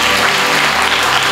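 A church congregation at a Telugu Christian Sunday service claps loudly and continuously, forming a thick, unbroken wash of applause with a low hum underneath.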